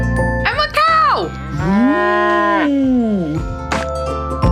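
Loud, close cow moos, two long drawn-out lowing calls one after the other, alone with no talk; the sound comes from a cow heard during a children's face-painting session.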